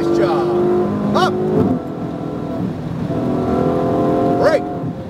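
A Ferrari 488 GTB's engine drones steadily on a race track, its pitch rising and falling as it accelerates and upshifts, with someone talking over it throughout.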